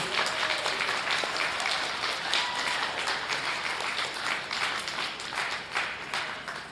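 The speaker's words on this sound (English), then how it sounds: "let's send them out with one gigantic nice round of applause" A county fair crowd at the Jackson County goat show claps for the departing class, a dense, loud round of applause that stays full throughout with no voices on top.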